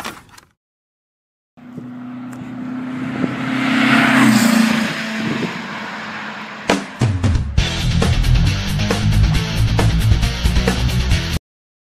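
A 1974 VW Super Beetle air-cooled engine cranks with a starter whir, then catches and settles into a loud, close, rattling idle with uneven revs.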